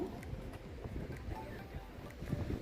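Steady wind buffeting the microphone with a low rumble, continuous and fairly close throughout, with faint hints of water and boat noise underneath, on the coast at Hermanus, South Africa.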